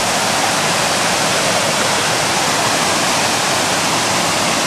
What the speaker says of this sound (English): go up the waterfall